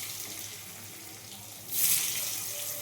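Water from pressure-cooked steamed potatoes is poured off, a steady broadband rush that swells louder and splashier partway through, heard alone without talk.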